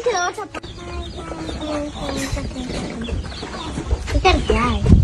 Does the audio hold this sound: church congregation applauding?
no